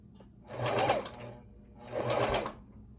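A sewing machine fitted with a button foot stitches fabric in two short close bursts of rapid whirring and needle clatter, with a quiet pause between them.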